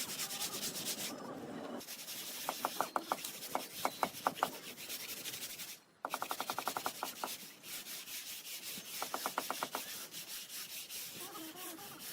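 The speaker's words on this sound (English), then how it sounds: "The thin-set adhesive is applied with a notched trowel, creating a ribbed pattern of uniform ridges." A notched trowel spreads thin-set adhesive across aerated concrete blocks for a house foundation, making a soft, continuous gritty scrape. Bursts of rapid ribbed clicking repeat several times as the notches drag, and there is one brief pause in the middle. Nobody speaks.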